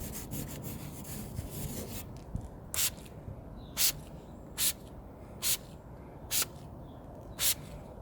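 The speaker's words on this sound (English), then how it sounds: "Just spray a few shots on the window or windscreen and watch the ice dissolves in seconds." Homemade de-icer sprayed from a trigger bottle onto a car window: six short, crisp hissing bursts spaced about a second apart, following a stretch of scraping and rubbing, close and fairly loud.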